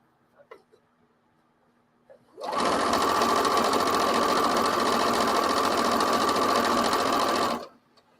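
A sewing machine runs steadily at speed with a lengthened stitch setting, a loud continuous mechanical whir lasting about five seconds, starting and stopping abruptly, with quiet humming before it begins.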